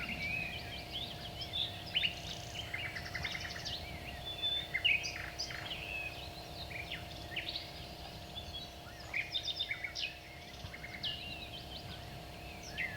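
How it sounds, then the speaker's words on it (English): Birds singing on an old cassette recording of birds and animals, repeated chirps and trilled phrases from several birds over a steady tape hiss and low hum, moderately faint and continuous. "I found a cassette that contained only sounds of birds and animals."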